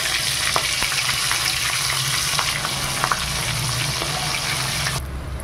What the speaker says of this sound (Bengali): এবার ফোড়নের জন্য দিয়ে দেবো কাঁচা লঙ্কা। কাঁচা লঙ্কাটা কিন্তু গায়ে ছিটবে।